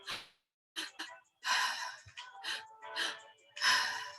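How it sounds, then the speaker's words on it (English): Deep, audible breaths drawn in and let out during a guided breathwork exercise, a series of close, airy inhales and exhales separated by short pauses. "Just go a little bit deeper with the breath if you can."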